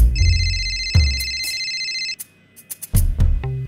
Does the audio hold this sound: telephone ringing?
yes